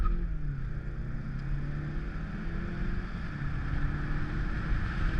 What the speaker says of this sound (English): Let's roll down the window so you can hear some of the exhaust.